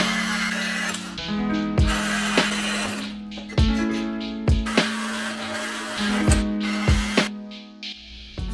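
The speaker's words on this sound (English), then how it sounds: "I'm gonna grab the Sawzall and I'm gonna start cutting these 2 sides" A Sawzall cuts through the frame of a Honda Shadow VLX600 motorcycle with a loud, steady buzzing rasp, broken by repeated metallic clanks and rattles as the blade binds and shifts.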